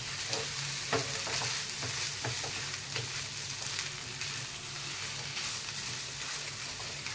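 Boiled, crushed potatoes, about 250 grams, stirred with spices in a pan over a low flame: a steady broad sizzle with repeated scraping and stirring strokes, close and continuous for the whole stretch, no voices.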